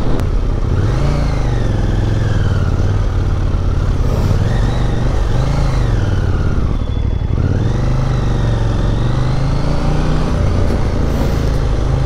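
A 2021 KTM Duke 890 motorcycle accelerating hard, its engine loud and close as it climbs through the revs, drops briefly at a gear change and then pulls up again for a sustained, continuous roar with no talk over it.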